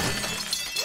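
Glass jars shatter in the video game 7 Days to Die, a sharp crash followed by scattered tinkling of shards, fairly loud with no voices over it.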